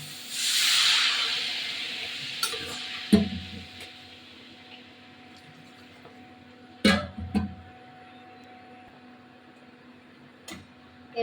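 Water hits a hot pan while a Bengali fish curry of tengra with potatoes, eggplant and fried lentil dumplings cooks, giving one loud hiss that fades over two seconds, followed by scattered sharp clatters and knocks of utensils.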